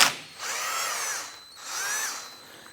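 A power drill with a 13mm socket spinning off a radiator nut on a 2005-2007 Ford Five Hundred, two whirring bursts about a second each, close and fairly loud, with a short pause between.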